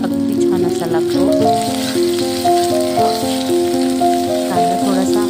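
Chopped onion sizzles in a hot pan for a village-style sprouted moong usal, a steady frying hiss running beneath loud, continuous melodic music throughout.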